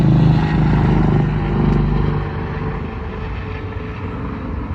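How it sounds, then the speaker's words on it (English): A helicopter passing overhead, a loud low rotor thrum and engine drone that swells, then fades slightly as it moves off. "There's a helicopter."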